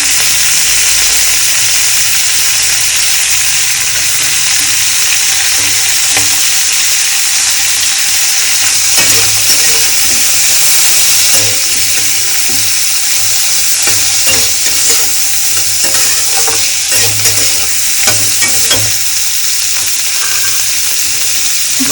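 A winter cabbage dish with carrot and cashews sizzles steadily in a pan while being stir-fried, with scraping stirs breaking through a loud, continuous frying hiss and no talking.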